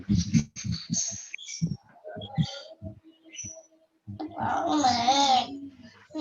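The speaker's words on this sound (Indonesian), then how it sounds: "Ini suara burung ada dari rumah Bu Mimi." Birds chirp from a neighbouring house, quick high calls that come and go, mixed with people talking nearby.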